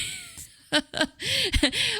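A flerken cat from the film Argylle meows in short, separate calls, some rising and falling in pitch, loud and close over a steady hiss.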